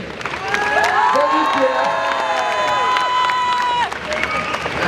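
A lively crowd at a convention conference cheers and claps, with shouts and whoops rising over the applause for several seconds before it briefly eases.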